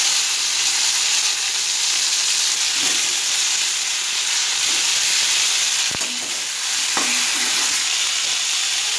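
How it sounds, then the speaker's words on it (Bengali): Tomatoes dropped into hot oil with tempered cumin for a Bengali prawn curry give a loud, steady, close sizzle and hiss throughout, with a few faint stirring knocks. "এবার টমেটো গুলোকে ছেড়ে দেবো।"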